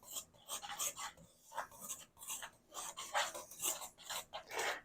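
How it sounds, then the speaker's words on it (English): A whisk stirs a dry flour mixture around a bowl in quick rhythmic scraping strokes, close and soft, repeating steadily throughout. "I'm going to take this whisk and just whisk it around a little bit in the bowl there just to get it mixed up"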